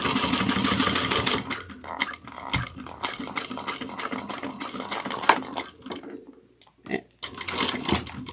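A sewing machine back stitches through water-resistant canvas, a fast run of busy mechanical clatter with brief pauses near the end, loud and close with no talking.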